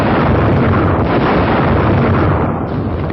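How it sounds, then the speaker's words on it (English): A film explosion roars in a dense, sustained blast of broadband rumble that stays loud and unbroken for about three seconds before cutting off. "Oh, there's a great explosion at the end."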